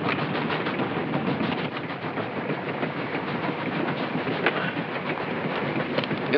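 Passenger train rolling along the rails in a 1941 film, a steady dense rumble and clatter that stays even and continuous without talk.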